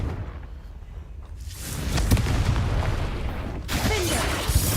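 Confringo, the fire spell in Hogwarts Legacy, goes off with a deep booming blast after a brief quiet moment, followed by a rolling, crackling rumble and a second burst of noise a little later.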